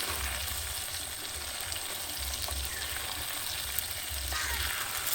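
Potatoes for aloo dum fry in a clay wok in a village outdoor setting, making a dense, constant close sizzle with soft bubbling and no voices.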